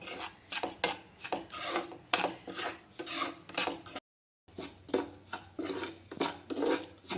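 Semolina (rava) being dry-roasted and stirred nonstop in a pan for puttu, giving a steady scraping, rasping rhythm of repeated strokes, close and fairly loud, with a brief pause partway through.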